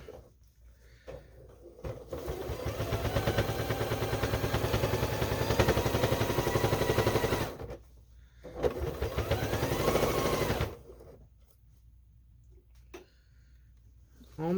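A sewing machine stitching the binding on a first quilt, a dense continuous mechanical whir running for several seconds, briefly stopping, then resuming for a few seconds more before falling quiet.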